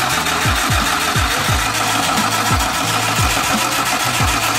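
Rhythmic starter cranking of an R33 Nissan Skyline engine during a compression test, with about a dozen evenly spaced low chugs over a steady whirring drone, close and loud with no engine firing.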